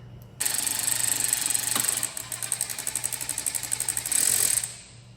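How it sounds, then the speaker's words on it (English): Power tool with a T50 Torx bit loosening a seat belt bolt on a Chevy Colorado or GMC Canyon, a loud, close, buzzing whir that turns into rapid rattling pulses before a final burst and stop. "This is going to use your same T50 that you use for the 2 back bolts to loosen this bolt here."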